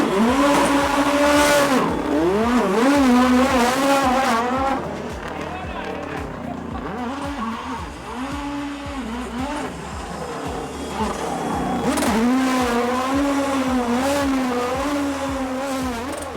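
A race car at the Simola Hill Climb in Knysna roars loud and close, its engine revving up in repeated rising sweeps through the gears, then settles lower before climbing hard again.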